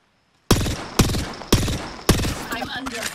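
Gunfire in the Apex Legends video game: four loud, sharp bursts about half a second apart, each trailing into a sustained rattle of shots and ringing reverberation.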